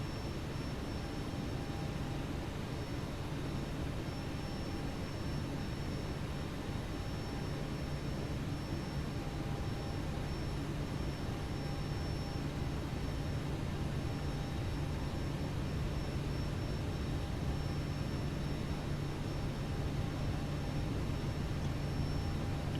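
Simulated Boeing 737-800 taxiing at Amsterdam in a flight simulator game: a steady, continuous engine drone and broadband rumble with a faint low hum, holding level throughout with no talk.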